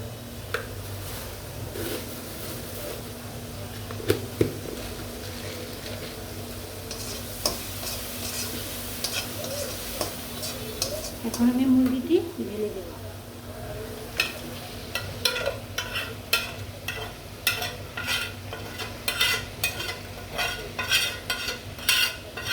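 Chicken being stirred and fried with garam masala and spices in a kadai wok, with steady sizzling and scraping stir strokes throughout and a brief louder burst of stirring midway.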